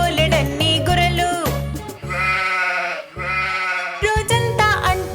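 Sheep bleating on a farm in a children's rhyme: a run of loud, wavering bleats over a bouncy musical backing, some clustered and some drawn out.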